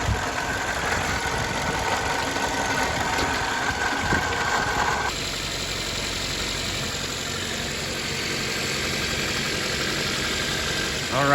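Engine of a Toyota Corolla running steadily at idle after mechanical repair, a continuous close mechanical hum with faint knocking texture and no voices.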